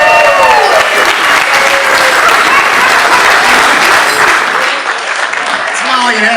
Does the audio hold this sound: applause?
yes